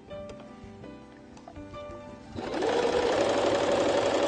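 A sewing machine stitches a zipper onto a toiletry bag, first a few slow, uneven stitches with handling noise, then a steady fast whirring run, close and clear with no talk.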